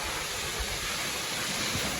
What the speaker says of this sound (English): You can just see the waterfall peeking through now.